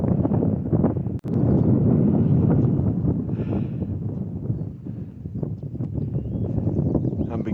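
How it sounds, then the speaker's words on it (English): Strong wind roars steadily across an exposed Appalachian mountain top near Hump Mountain, buffeting the microphone with loud, rumbling gusts, broken once by a brief sharp knock. "The wind's dying down a little bit."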